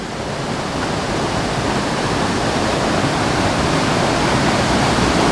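Water rushing and swirling steadily over rocks in a Citico Creek Wilderness stream, a loud continuous broadband roar, close by with no voices.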